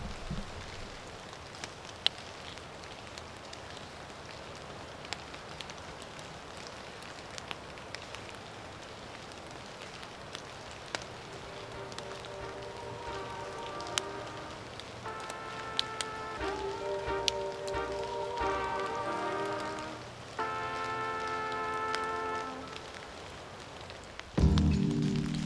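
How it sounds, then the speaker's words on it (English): Raindrops fall from trees and leaves in a woodland near the Nordhouse Dunes, a steady soft patter with scattered heavier drips, while a louder melodic whistling or singing rises over it partway through. "the sound of the raindrops falling from the trees and the leaves."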